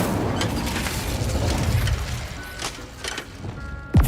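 An Incendio fire spell in Hogwarts Legacy erupts with a rumbling, booming rush of flame that fades over a few seconds, followed by a sharp closing whoosh amid other combat effects.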